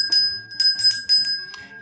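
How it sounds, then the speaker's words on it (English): A bright bell sound effect rings out in four or five quick metallic dings with ringing overtones, clean and close with no voices. "if you're watching on youtube ring the bell"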